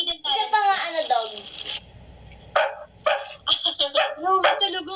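A child imitates a dog with a string of yappy barks and whimpering yips, close and loud, in short bursts broken by pauses.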